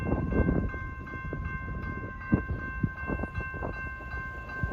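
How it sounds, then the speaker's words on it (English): A short BNSF freight train approaching Ritzville, Washington, with a sustained horn blast over a low rumble and scattered clanks of the rail cars as it draws near. "we got another BNSF train heading into Ritzville"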